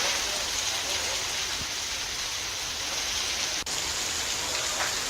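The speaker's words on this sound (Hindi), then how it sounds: "कोंडागांव और जशपुर में मूसलाधार बारिश हुई है" Heavy downpour falling steadily as dense, continuous hiss, close and loud throughout with no breaks, one brief dropout near the end.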